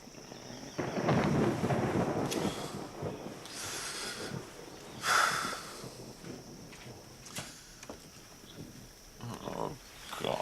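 Thunder rumbling on a stormy night, with low rolling booms and crackling swells spread across the clip, moderately loud and steady with rain-like noise underneath and no talk.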